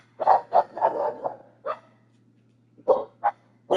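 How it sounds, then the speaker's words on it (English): Several dogs barking indoors, a close burst of four or five quick barks followed by single barks after a pause, over a faint steady hum. "I don't know what my dogs are barking at."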